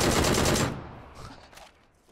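Rapid automatic rifle fire from an M16 in PUBG, a loud, dense burst for under a second that cuts off sharply, followed by fainter scattered shots and echoing game sounds.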